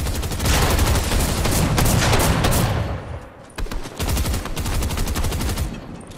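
Rapid automatic shotgun fire in Fortnite, dense bursts of loud blasts in quick succession, pausing briefly midway before another sustained volley, close and harsh.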